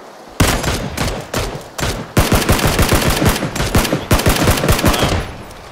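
In a first-person online shooter game, loud gunfire comes in bursts of rapid automatic shots, then a long sustained stream of rounds, fairly close and dominant with no talk over it.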